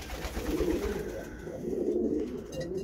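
A racing pigeon coos softly in a loft after returning from a competition flight, low rolling calls repeating under a faint, steady background.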